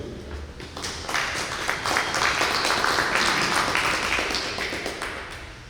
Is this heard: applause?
yes